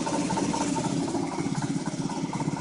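A sailboat's inboard engine motoring along at just under 2,000 RPM, giving a steady, close, continuous drone with a low rhythmic throb and no pauses.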